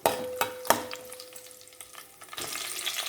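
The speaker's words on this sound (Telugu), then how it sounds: "ముందుగా 2 పచ్చిమిర్చి వేసుకుంటున్నాను." Two green chillies dropped into hot oil in a pan, sizzling and frying close up, with a few sharp taps of a spoon and a louder hiss swelling near the end, no talking.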